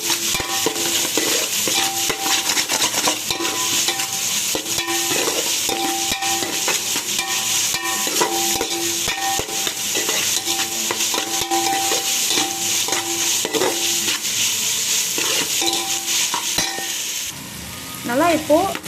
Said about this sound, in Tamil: இப்போ தக்காளி சேர்த்துக்கலாம். இதையும் சேர்த்து நல்லா வதக்கி விடுங்க.